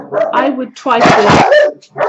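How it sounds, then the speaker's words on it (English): A dog barks in several sharp bursts indoors, loud and close, mixed with someone talking over it. "Sorry, that's my dog again."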